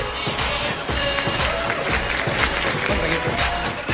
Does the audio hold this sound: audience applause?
yes